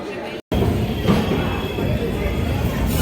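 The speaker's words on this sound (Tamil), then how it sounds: "ட்ரெயின் வந்துடுச்சு." Steady rumbling rail noise fills the clip, with a brief dropout near the start, as a train rolls into a station amid background activity.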